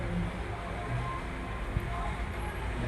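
Rushing water at Hogenakkal waterfall, a dense continuous roar of flowing water heard at a distance, steady and broadband with no talk over it.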